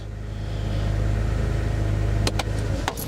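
A BMW car engine idles steadily and loudly at close range with a constant low rumble just after starting, followed near the end by a few clicks.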